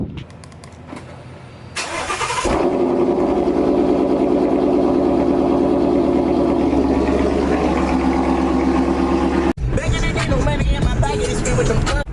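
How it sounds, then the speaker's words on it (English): A car engine cranks and fires up, then settles into a loud, steady exhaust idle that rumbles on for several seconds, with a brief dropout near the end; not a cold start. "I'm gonna go ahead and give you guys a start up."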